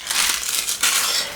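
Protective packing paper from a parcel of fabrics and sewing notions is crumpled and crinkled close by, a steady dry rustle that swells and crackles throughout with no talk.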